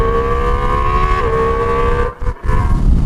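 Ducati Multistrada V4 RS motorcycle engine revving hard on a damp, cold road, a loud sustained tone that steps down with a gear change, then briefly cuts out near the end before picking back up.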